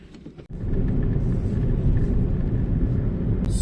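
A car pulls away at a desert campsite near Jaisalmer, a steady loud engine rumble rising after a brief pause and holding under the wind with no talk.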